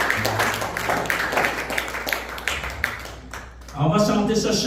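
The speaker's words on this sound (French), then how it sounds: "Donnez une bonne main d'applaudissement" A church congregation claps together during a Sunday morning service in French, the applause blending with voices and a sung or spoken line rising near the end.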